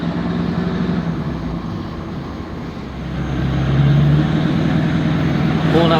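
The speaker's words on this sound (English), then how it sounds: "Generators running." Generators run with a steady low engine drone throughout, growing slightly louder and deeper midway, with a constant mechanical rumble close by.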